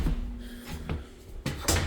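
A house door being shut near the garage of a home at an open house, heard as a couple of short, close knocks and clunks with quiet room noise between them.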